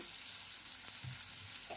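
Spicy bombil (Bombay duck) fish frying in a pan, a steady soft sizzle of hot oil with a couple of brief low stir or turn sounds, close and alone.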